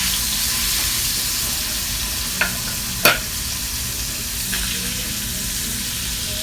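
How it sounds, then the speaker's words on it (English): Butter browning to beurre noisette in a pan for steak, a steady soft sizzle filling the background with a couple of brief sharp clinks of a utensil, no talking. "I'm going to have butter. A little butter. So it's going to turn to a little bit brown,"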